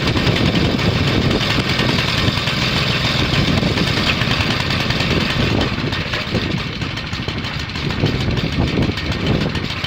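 A rebuilt small micro chopper motorcycle engine runs on its own, settling into a steady, rough, knocking idle that stays loud and close for the whole stretch, with a faint high whine above it and no voices.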